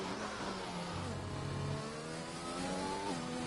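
A McLaren Formula 1 car in the F1 2021 racing game pulls out of the pit lane at Brazil, its engine droning steadily and rising in pitch as it accelerates, heard alone.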